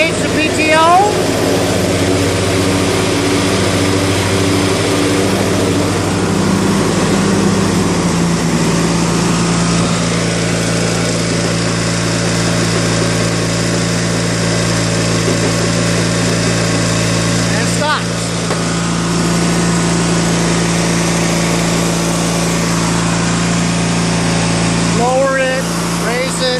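A Craftsman LT1000 lawn tractor with a 42-inch mower deck runs steadily with the PTO engaged, its engine drone loud and continuous throughout with a faint whine and minor shifts in tone.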